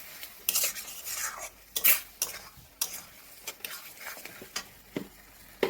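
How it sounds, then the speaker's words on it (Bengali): A spoon stirs cornflour slurry into gravy in a pan, making close, irregular scraping and clinking strokes over a faint simmering sizzle, with bursts of louder metallic knocks. "কর্নফ্লাওয়ার গুলিয়ে এতে মা দিয়ে দিচ্ছে যাতে গ্রেভিটা একটু মানে গাঢ় হয়"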